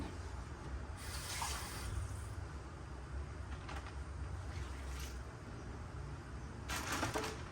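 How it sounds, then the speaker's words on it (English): Half a cup of water is poured into a slow cooker for a freezer dump dinner, making soft splashing bursts over a steady low background hiss, fairly faint and close with no talking. "And then I'm going to put half a cup of water in."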